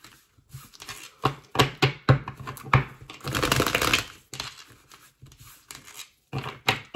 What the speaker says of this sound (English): Do a few more shuffles.